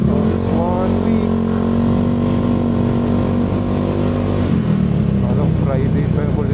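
A motorcycle runs steadily up close, its engine drone loud and continuous throughout with a shift in pitch near the end, under a rider's voice.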